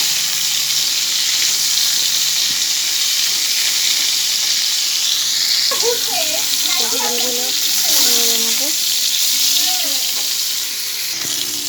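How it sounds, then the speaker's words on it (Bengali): Pointed gourds (potol) frying in oil, giving a loud, constant close sizzle and hiss, with a voice briefly talking over it midway. "পটলগুলো লাল লাল করে ভেজে নেব।"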